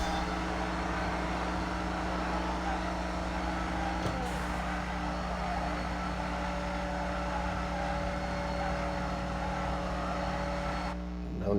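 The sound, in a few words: car race in video game Need for Speed No Limits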